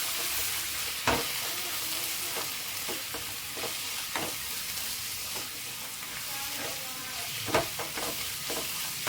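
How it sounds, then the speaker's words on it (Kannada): Red chili powder is stirred into sambar masala in a sizzling pan, with a continuous frying hiss and repeated scraping strokes of a spoon at an irregular pace, close up. "ಈಗ ಚೆನ್ನಾಗಿ ಮಿಕ್ಸ್ ಮಾಡ್ಕೊಳ್ಳೋಣ."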